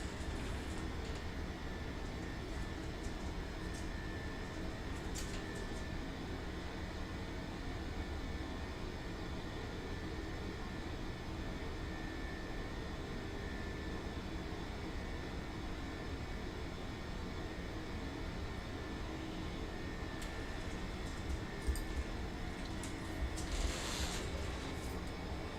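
Steady, broadband engine drone inside an airliner cabin in flight just after takeoff, a continuous roar holding constant throughout with a faint brief rustle near the end.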